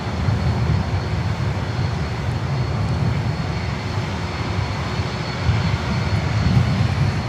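Air Canada Cargo jet in special livery at Miami airport, bound for Toronto, a steady low engine rumble at some distance, continuous and unbroken, with no talking.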